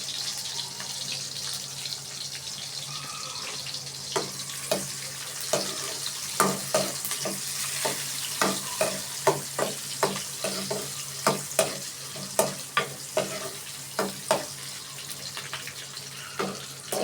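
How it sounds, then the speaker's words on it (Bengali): Chopped onions fried in a pan for a lentil and bottle gourd dish, a steady hiss under a run of quick, rhythmic scraping strokes as they are stirred, close and with no speech. "এগুলো আমি ব্রাউন কালার না আসা পর্যন্ত নাড়তে থাকবো এবং খেয়াল রাখবো যাতে লেগে না যায়"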